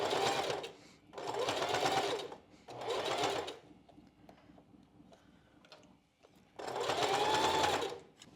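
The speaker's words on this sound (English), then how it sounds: "we're just going to baste in place with a longer stitch length" Sewing machine basting a strapless bra with a long stitch length, running in four short bursts of rhythmic mechanical whirring, close and clear, with quiet pauses between runs and no talking.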